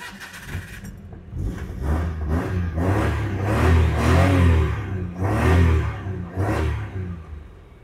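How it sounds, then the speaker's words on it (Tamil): A 1984 Maruti car engine started without choke, cranking briefly and then catching on the first try into a rough, pulsing idle with a few revs, loud and close. "பட் சோக் போடாமலே பையன் ஒரே ஸ்டார்ட்டில் ஸ்டார்ட் ஆவான்."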